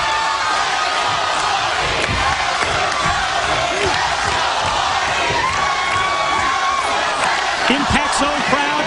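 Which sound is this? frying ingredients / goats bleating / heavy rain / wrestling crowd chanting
wrestling crowd chanting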